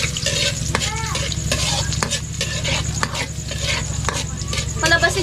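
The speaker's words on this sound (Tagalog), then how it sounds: "una po is ilalagay po natin ang bawang. Gisa ba?" Garlic sautéing in a pan, with a steady sizzle and frying hiss, repeated scrapes and clinks of a stirring utensil, and a constant low hum underneath, all close and fairly loud.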